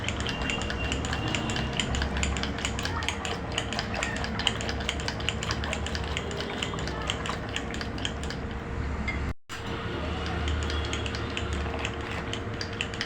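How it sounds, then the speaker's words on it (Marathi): Soft cooked toor dal being whisked and mashed in a pot, a rapid run of rhythmic scraping and clinking strokes, close and steady, briefly cutting out near the end before resuming. "आम्ही छान घोटून घेणार आहे"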